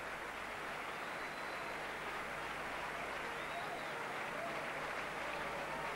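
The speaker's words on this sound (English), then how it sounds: "Andy Gregory comes off to tremendous applause." A stadium crowd at a rugby league legends match in Widnes applauds as a player leaves the field, a broad, distant wash of clapping and crowd noise, steady and fairly faint throughout.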